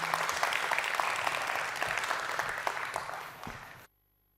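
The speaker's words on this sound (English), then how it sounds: "Please, a warm round of applause." Applause from a conference hall audience at an internet governance forum session, a steady dense patter of many hands lasting nearly four seconds before cutting off abruptly into silence.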